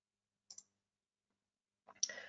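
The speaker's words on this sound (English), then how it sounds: "I click on okay." Two brief mouse clicks on an OK button in structural design software, a faint lone click followed by a louder one, with a short stretch of silence between them and no talk.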